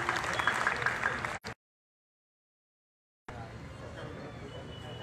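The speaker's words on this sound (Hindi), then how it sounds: "जोरदार तालियां" Loud applause from an audience at a seminar event, clapping densely for over a second, then a sharp cut to silence before the clapping and crowd noise resume at a lower level.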